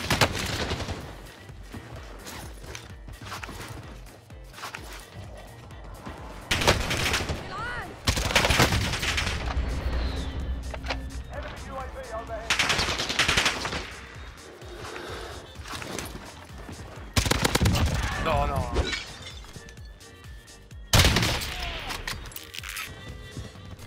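Automated sentry gun fire in Call of Duty: Warzone, rapid bursts of gunfire coming in several loud stretches over the game's ongoing combat noise and effects.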